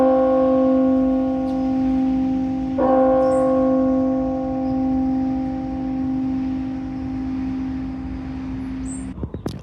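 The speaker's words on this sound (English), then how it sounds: "So this is the bell ringing for Mass now as we hear it." Mission Santa Clara's church bell rings for Mass, one sustained metallic tone with a fresh strike near three seconds, its hum lingering and slowly decaying over faint outdoor background.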